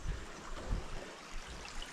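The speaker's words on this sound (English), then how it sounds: "there's this lovely stream I'm happy to take a bridge over." Stream of cool water flowing beneath a boardwalk bridge on a shaded tree-lined trail, a soft steady rushing babble at moderate distance, faint and continuous with no talking.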